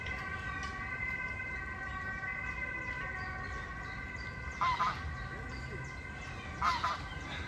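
Geese honk a few times in short bursts in a park in Amsterdam, off in the distance over a constant droning hum.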